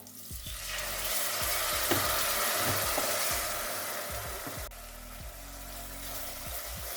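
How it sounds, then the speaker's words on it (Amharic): Berbere and onion fry in a pan for an Ethiopian cauliflower stew, and water is sprinkled in, raising a loud, close, continuous sizzle that flares and then settles slightly, with no talk. "በርበሬውን በዚህ መልኩ እንደዚህ ውሃ ጠብ እያደረኩኝ በደንብ አድርጌ አቁላለዋለሁ።"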